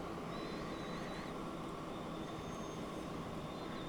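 Simulated trains in the game Transport Fever 2 rumble steadily with faint wheel squeal, a continuous moderate mechanical drone with no talk.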